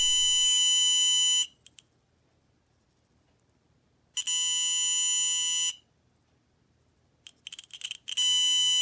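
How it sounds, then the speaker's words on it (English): An electronic active buzzer set off by a tilt sensor, sounding in three loud, steady high-pitched bursts of about one to two seconds separated by silence, with a few short stuttering chirps before the last. "whenever the sensor is tilted in any direction, the blue LED turns on and the active buzzer is activated"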